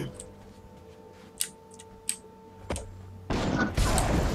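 Cannon fire in the Guild Wars 2 video game: a few sharp, sparse booming shots, then a dense, loud burst of blasts near the end.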